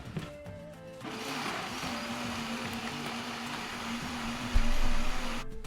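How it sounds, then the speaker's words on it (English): A small blender purees chipotle peppers, fresh onions, boiled guajillo peppers and garlic, a loud steady whirring motor hum that starts about a second in, holds for several seconds and cuts off near the end. "He blends together chipotle peppers and fresh onions, boiled guajillo peppers, and garlic"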